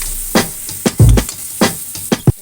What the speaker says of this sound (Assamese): ৰঙচুৱা নোহোৱালৈকে বিলাহীখিনি আমি এনেদৰে অলপ দেৰি ভাজি ল'ম